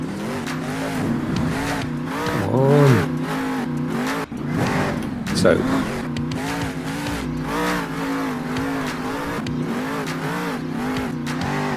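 Truck engine revving and roaring in a Stadia driving game, rising and falling in bursts with brief tire squeal, close and loud, while someone speaks briefly over it.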